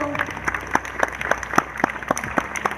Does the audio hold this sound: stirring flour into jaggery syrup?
no